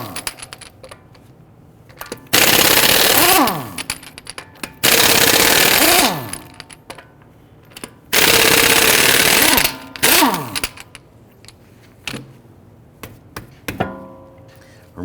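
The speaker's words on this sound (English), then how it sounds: "let's loosen and remove our lug nuts" Impact wrench loosening and spinning off lug nuts with a 22mm socket on the front wheel of a 2011-2023 Dodge Charger 3.6L V6, three loud rattling bursts of a few seconds each with quiet pauses between.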